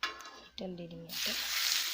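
Hot oil going into a pan for jalphai (olive) pickle, a short voiced moment early, then a bright, loud sizzle that rises and holds to the end.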